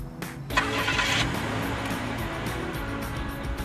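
A car engine cranks over and fires up, then settles into a steady idle rumble that carries on alone, fairly quiet.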